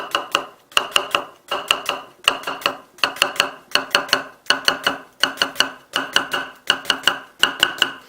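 Knife scoring a cucumber on a cutting board, cut at a 45-degree angle for sea cucumber vinegar salad: steady rhythmic series of sharp, close taps, about a dozen evenly spaced chops.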